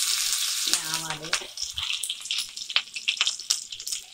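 Green chillies and mustard seeds frying in hot oil for temple-style curd rice, a bright crackling sizzle with scattered pops and spits, close and fairly loud, over a brief tonal hum at the start.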